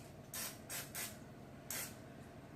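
Short bursts of cooking spray hit a nonstick Pampered Chef mini muffin tin, three quick hisses close together, then a pause and one more spritz, alone against a quiet room.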